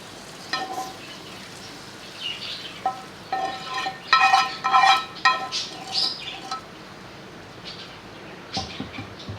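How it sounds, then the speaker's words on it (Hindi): A tempering of hot oil and spices for dalcha, a tamarind lentil-and-meat dish, crackles in irregular bursts of sharp spitting pops, loudest midway, then fades to a softer sizzle with a final clatter. "अब अपनी ये दाल है इसको बघाड़ लगाएंगे"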